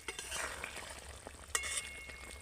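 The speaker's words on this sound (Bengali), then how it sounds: "খুব সামান্য একটু চিনি দিয়ে দেবো দিয়ে একটু নেড়ে দেব" A vegetarian okra curry with a pinch of sugar is stirred in a pan, giving faint scraping taps over a soft, quiet sizzle, with no talking.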